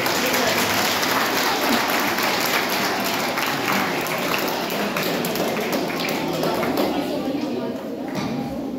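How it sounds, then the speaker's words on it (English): Steady applause from a school quiz competition audience, continuous and fairly loud for the whole stretch, with scattered individual claps standing out. "Clapping."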